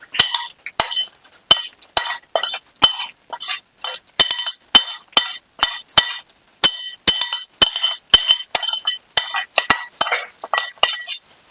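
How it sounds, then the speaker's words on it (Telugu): Repeated scraping and clinking of a spoon mixing dal into a metal pot in a steady stirring rhythm, close and fairly loud, with no talking. "ఈ పప్పు దీంట్లో కలిపేస్తున్నాను"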